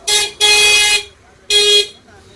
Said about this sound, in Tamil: யாருமே இல்லாத ரோட்டுக்கு எவ்வளவு ஹாரன் அடிச்சுட்டு போறாங்க பாருங்களா